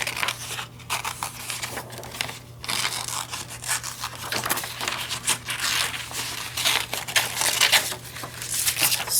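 Scissors snip through paper in a string of short, crisp cuts and rustles, with brief pauses between bursts and a low steady hum underneath.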